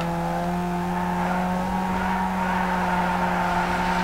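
Car engine droning steadily at high revs while drifting in Need for Speed Underground 2, a constant tonal hum with faint tire noise throughout, close and continuous without any voices.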